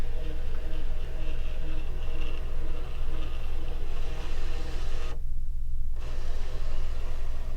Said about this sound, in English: Direct cut, machine, start, and it's going to go ahead and scan it.